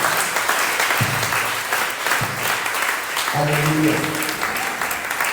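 A worship congregation claps in a dense burst of applause inside a church service; a voice calls out and sung or spoken tones rise over the clapping toward the end.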